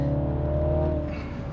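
A 2022 MINI Cooper John Cooper Works pulls hard under acceleration, its engine a steady, close, loud drone that holds level and then eases slightly near the end.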